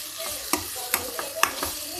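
Ivy gourd fries with onion and spice masala while a spoon stirs it steadily, producing a loud, close sizzle punctuated by regular scraping strokes about every half second.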